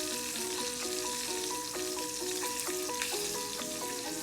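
Mint and pistachio crusted lamb sizzles loudly in a hot pan on the stove, a dense, close, continuous frying hiss, with no one talking.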